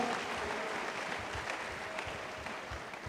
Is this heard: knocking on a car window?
no